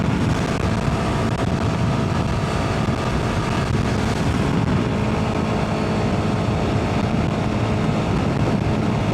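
Wind buffets a rider on a Royal Enfield Himalayan 450 motorcycle at 130 km/h behind an aftermarket windshield: a constant, loud, dense roar of rushing air and engine drone that stays steady throughout, with no talking.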